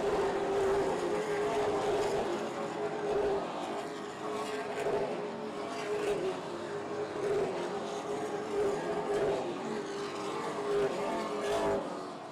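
Race cars roar around the oval at Oyster Bed Speedway, a steady engine drone rising and falling as the cars pass, heard from a distance under constant crowd and track noise.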